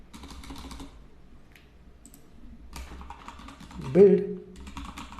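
Close, quick key presses on a computer keyboard come in short bursts separated by pauses while code is typed, and someone speaks briefly partway through.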